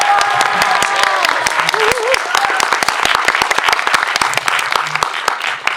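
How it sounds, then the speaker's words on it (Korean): Sustained applause greets a Korean film director at a special guest screening event, crisp individual claps dense and continuous, with a presenter's voice rising briefly over the crowd early on. "이분을 모셨다는데 흥분하신 만큼 다시 한번 박수 부탁드리도록 하겠습니다."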